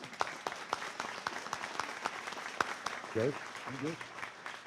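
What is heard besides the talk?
applause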